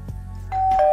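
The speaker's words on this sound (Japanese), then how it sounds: "玄関のチャイムが鳴りました。" A front-door chime at a home gives a short two-tone electronic ding-dong, clear and close, after a brief low thump.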